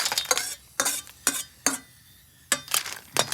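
Onion-garlic gravy with red chilli being stirred in a pan, with several separate scraping strokes of a spoon against the metal over a soft sizzle, close and moderately loud.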